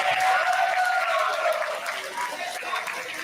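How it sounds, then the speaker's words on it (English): Audience applause at a seminar on creative advertising in the digital age: a steady wash of clapping through the whole stretch, with voices mixed in. "a round of applause for yourself"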